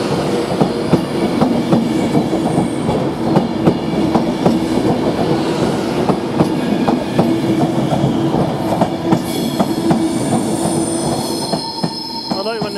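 An Avanti West Coast Class 390 electric train, unit 390137, departs Carlisle for Glasgow Central: loud, close rolling wheels with rhythmic clicks and a steady motor whine, squealing rising near the end.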